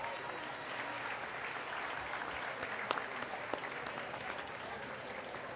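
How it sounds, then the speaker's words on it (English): An audience at a business school awards and diploma ceremony applauds honor society inductees. Dense, sustained clapping holds steady throughout, with a few sharper claps popping out near the middle. "Let's give a round of applause to all of our Beta Gamma Sigma inductees."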